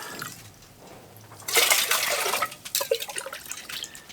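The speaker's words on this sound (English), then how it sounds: "I'm gonna get some drinking water out of this hole before I start fishing out of it." Water is scooped from a hole cut in lake ice for drinking, a burst of splashing and gurgling pouring after a quiet start, then uneven sloshing and trickles, close and fairly loud.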